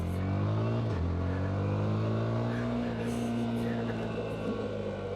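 A black 2025 Yamaha R125 with a quickshifter, ridden home from Fox Hill, gives a steady, close engine drone with a brief dip in pitch as it shifts gear, over constant wind noise.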